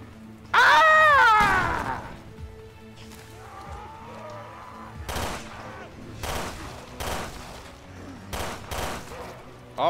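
Gunfire and explosions in the video game Resident Evil Revelations 2 Raid Mode, including a death shotgun, burst out in a loud opening blast followed by a string of sharp shots and impacts, with groaning creature sounds in between.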